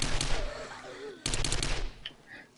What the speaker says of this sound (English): Maybe I should stop using my, SMG, huh?